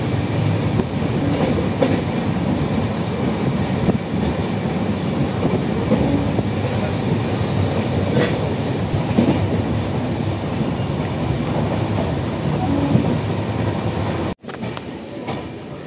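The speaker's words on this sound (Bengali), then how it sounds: "মালদা ঢুকে গেছে ট্রেন।" The 12343 Darjeeling Mail from Sealdah to NJP, heard from inside a general coach near Malda, gives a loud continuous rumble with rhythmic wheel clatter that cuts off abruptly near the end.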